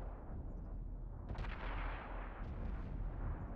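Tank turret cannon shots in a video game match, a few dull booming blasts around a steady rumbling battle backdrop, moderately loud and without talk.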